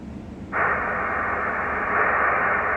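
Hiss of band noise from an ICOM IC-725 receiver tuned to the 40 meter band, a steady broadband rush that jumps up sharply about half a second in and then holds constant and loud to the end, with no voices.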